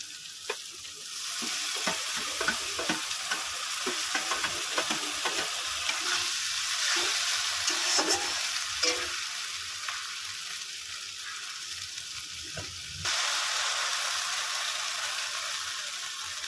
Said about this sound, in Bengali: মশলাটা থেকে তেল ছেড়ে দিয়েছে মশলাটা কষানো হয়ে গেছে